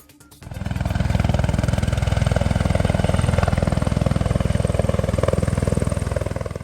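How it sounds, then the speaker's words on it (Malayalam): A helicopter circles and comes down onto the Pazhassi Raja College ground at Pulpally, carrying a newly married couple. Its steady, loud rotor thump with heavy engine whine starts abruptly and holds close and constant, with no talk. "പഴശ്ശിരാജ കോളേജ് ഗ്രൗണ്ടിൽ ഹെലികോപ്റ്റർ വട്ടമിട്ട് പറന്ന് നിലത്തേക്കിറങ്ങുമ്പോൾ"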